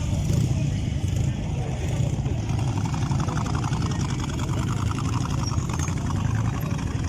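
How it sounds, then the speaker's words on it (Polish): Motorcycle engines rumble and idle steadily at a moderate distance as bikers arrive at an end-of-season motorcycle club gathering in Wodzisław Śląski, Poland, with indistinct voices and crowd chatter mixed in throughout. "Przyjeżdżają cały czas motocykliści, widzicie?"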